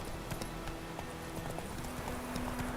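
Horse hooves galloping in The Witcher 3: Wild Hunt video game, a quick continuous clip-clop rhythm over steady background noise.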